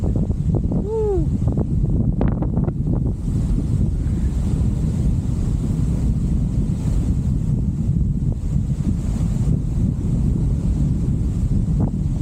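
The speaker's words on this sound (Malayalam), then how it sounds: "ആദ്യം കാറ്റടിക്കുന്നത് ഒരു രക്ഷയില്ലാത്ത കാറ്റ മക്കളെ" Strong wind roars through a valley in Attappadi, blowing at about 70 km/h. It is a loud, continuous rush that buffets the microphone throughout.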